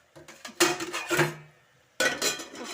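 A lid is set onto a pan of spinach cooking for palakura fry, giving two clattering metallic bursts of cookware contact, close and moderately loud, separated by a short pause.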